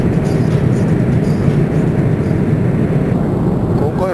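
Cabin of a United airliner in flight, a steady, loud, continuous roar of engine and airflow noise with no breaks throughout.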